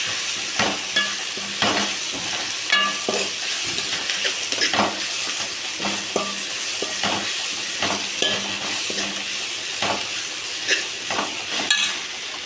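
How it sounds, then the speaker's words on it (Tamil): Drumstick leaves sautéing in a pan at home, a steady close sizzle with repeated sharp scrapes and stirring clinks spaced through the whole stretch, no talking. "இப்போ நம்ம முருங்கைக்கீரையை போட்டுக்கலாம் முருங்கைக்கீரையை நல்லா வணக்கிக்கலாம்"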